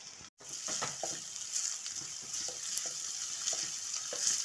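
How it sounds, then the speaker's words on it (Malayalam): Finely chopped ginger and garlic fry in a pan with a steady, close sizzle and occasional soft stirring taps, after a brief cut to silence at the start; nobody talks. "ഇഞ്ചിയും വെളുത്തുള്ളിയൊക്കെ നല്ലപോലെ മൂത്തിട്ടുണ്ട്."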